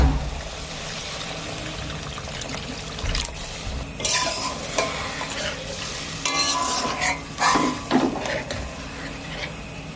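Egg curry with tomato sauce being stirred in a wok, a spoon scraping and clattering over a bubbling, sizzling gravy in bursts, close and fairly quiet, with no talk.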